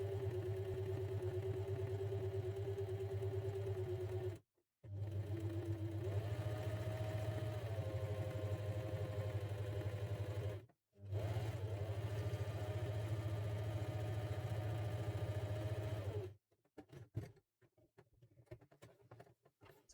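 A felting machine needles wool roving onto fabric, producing a steady low motorised hum with a fast rapid patter, stopping briefly twice and then ending with a few scattered clicks.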